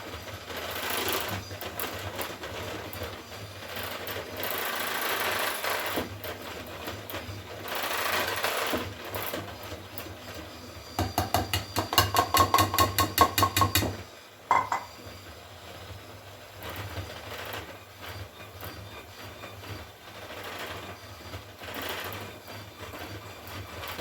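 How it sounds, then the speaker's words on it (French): An electric hand mixer beats cake batter as flour is added for an apple cake, a continuous whirring drone with a louder rattling burst midway, then a brief pause before the motor resumes. "Et vous mélangez avec votre batteur."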